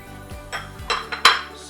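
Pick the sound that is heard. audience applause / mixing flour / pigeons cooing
mixing flour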